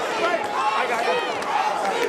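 A partisan crowd at a boxing match in Toledo, Ohio roars loudly and continuously, with many voices shouting and chanting together in a large arena.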